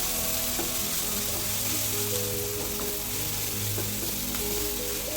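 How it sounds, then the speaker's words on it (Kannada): Turmeric frying in oil for vermicelli upma, a constant close sizzle with occasional light clicks of a spoon stirring. "ಒಂದು ಕಾಲು ಟೇಬಲ್ ಸ್ಪೂನಷ್ಟು ಅರಿಶಿನ ಹಾಕಿ ಫ್ರೈ ಮಾಡ್ಕೊಳ್ತಾ ಇದ್ದೀನಿ"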